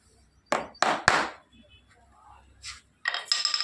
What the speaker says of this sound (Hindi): उस हिसाब से खीली को ठोकना है